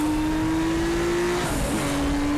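A touring classics race car on the Sonoma circuit in the RaceRoom racing game drones with a steady engine note that dips and climbs again as it shifts or lifts, loud and close, with no talk.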